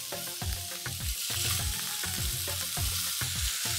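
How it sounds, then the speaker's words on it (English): Beef pieces for a masala curry sear and brown in a hot pan, a loud steady sizzle broken by repeated scraping knocks and clatters as the meat is turned, with no voices. "We're going to get our meat browned off"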